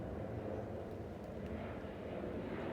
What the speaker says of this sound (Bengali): শুধু প্লেনের আওয়াজ হচ্ছে আর কিছু গাড়ির আওয়াজ হচ্ছে আর পাখি ডাকছে।